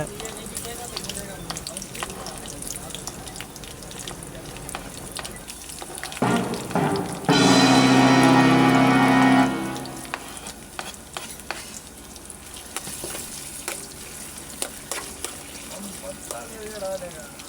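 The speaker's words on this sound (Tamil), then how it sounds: "வெங்காயம், பச்சை மிளகாய் ஆட் பண்ணி 1 நிமிடம் மட்டும் வெங்காயத்தை வதக்கி எடுங்க" Onion and green chilli sautéing in a pan, heard as soft frying and stirring scrapes with a louder burst of sizzle and hiss partway through, and someone talking over parts of it.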